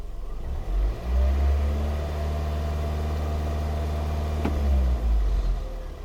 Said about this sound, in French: Et là, moteur bien chaud, le ralenti,